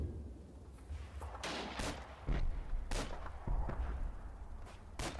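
Gunfire aimed at a top-floor window holding a heavy machine gun team in the WWII game Combat Mission Battle for Normandy: several sharp cracks and booms at irregular intervals over a low rumbling battle backdrop, with no talk.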